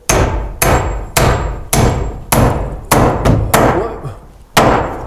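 A hammer drives nails into a wooden fan block mounted in a ceiling, with about nine sharp, loud blows at a fairly steady rhythm and short pauses between strikes.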